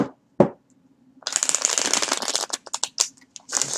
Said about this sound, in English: Just want to get one more good shuffle on here.